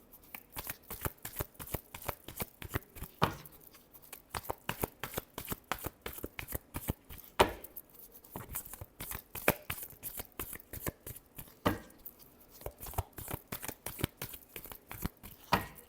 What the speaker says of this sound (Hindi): Last shuffle, the world.